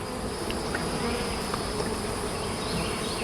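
Honeybees buzzing densely around an open hive during a summer inspection, a continuous close drone that fills the whole stretch without any talk.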